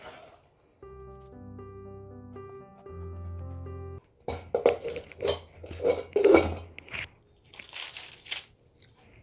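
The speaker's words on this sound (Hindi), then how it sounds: "और अब इसके अंदर हम जो कढ़ाई में बैटर था उसको इसके ऊपर डाल देते हैं" A spatula scrapes and clinks against a kadai as thick cashew katli batter is poured out, a run of close, uneven scraping knocks that follows a few seconds of background music.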